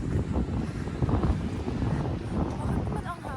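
Strong, cold wind buffets the microphone outdoors in winter in Norway, a steady, loud roaring rumble that never lets up.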